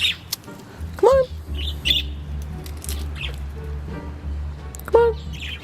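A found budgie (parakeet) squawks and chirps in a few sharp, close bursts against a steady low background hum.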